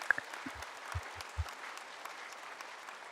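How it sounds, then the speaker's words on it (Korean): Congregation clapping during a Japanese-Korean Sunday church service, a diffuse patter of hands over a quiet room, with a few brief low thumps scattered through the first half. "박수 한번 칩시다"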